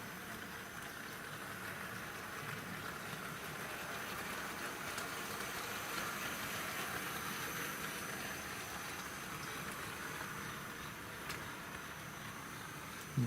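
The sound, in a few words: Tri-ang Hornby model locomotive pulling wagons with rail cleaning wagon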